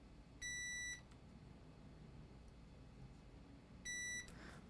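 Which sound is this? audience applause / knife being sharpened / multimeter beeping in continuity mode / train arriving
multimeter beeping in continuity mode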